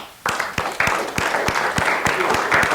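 Audience applause for a card trick at The Magic Circle in London, a burst of dense clapping that rises suddenly and holds steady and loud with sharp individual claps standing out, a voice briefly heard over it.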